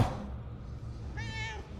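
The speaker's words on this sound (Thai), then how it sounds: "เฮ้ยเราร้องได้ด้วยนี่หว่า แมว" A single short cat meow from a possessed cat in the video game Murdered: Soul Suspect, clear and fairly close over a low background hum, with no talking.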